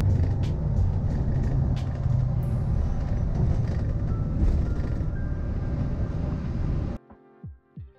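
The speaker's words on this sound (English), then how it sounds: "the train ride from SeaTac Airport to downtown Seattle is 36 minutes" Steady rumbling ride on a light rail train from SeaTac Airport to downtown Seattle, a constant low hum and rattle of a moving rail car that cuts off abruptly near the end.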